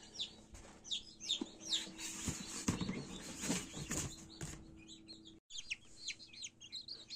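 Newly hatched Marans chicks peep in a steady, overlapping stream of high chirps, close by and fairly loud, with a brief gap near the end before the chirping resumes.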